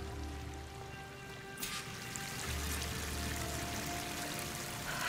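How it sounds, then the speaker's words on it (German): Waterfall in the video game Horizon Forbidden West: a steady, full rush of falling water that swells slightly partway through, with no voices over it. "Der Wasserfall muss irgendwo herkommen."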